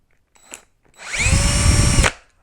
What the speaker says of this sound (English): I think my handy dandy DeWalt is going to help greatly